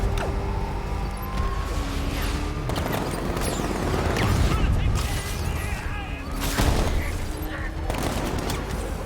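Heavy gunfire and explosions fill a Batman: Arkham Knight vehicle chase, with dense bursts, booms and mechanical clatter throughout, while voices shout over the barrage.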